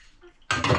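Dishes and kitchen utensils being washed in a sink: after a quiet start, a loud burst of clattering cutlery and clinking pots and pans sounds close by, with no talking.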